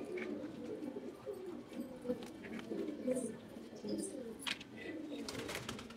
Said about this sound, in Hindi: बड़ा प्यारा कबूतर है दोस्तों,